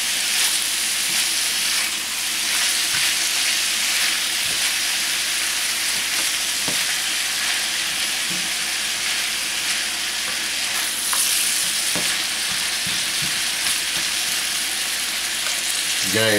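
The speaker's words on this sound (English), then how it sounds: "we can go ahead and start mixing our onions into it" Chopped onions are stirred into Italian sausage chili frying in a pan, giving a steady close sizzle with occasional scraping stir sounds, no talking.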